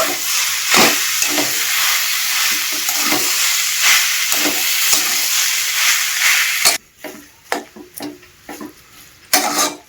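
Steady, loud sizzling of a potato, carrot and beet filling being stirred in a hot pan for several seconds, then quieter frying broken by repeated scraping strokes of a spatula.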